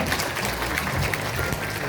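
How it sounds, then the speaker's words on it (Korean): Applause from attendees at a Korean National Assembly member's 2024 legislative report meeting in Daejeon, a soft, even patter of many hands clapping in a hall for a couple of seconds. "박수 한번 크게 부탁드리겠습니다"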